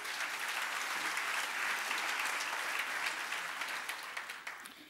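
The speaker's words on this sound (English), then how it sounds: "Do you withdraw your clapping now?" Steady applause from a parliamentary audience during a national budget speech, a dense sustained clatter of many hands that holds for several seconds before thinning and fading toward the end.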